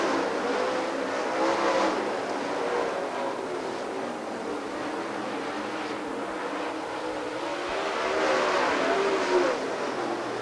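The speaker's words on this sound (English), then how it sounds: "Frankie Jr. will keep Mars in his sights as Mars will have to deal with the slower car of Rance." Race cars roar around Farmer City Raceway during the Woo Illini 100, a continuous loud engine drone that swells and fades as cars pass, with no pause.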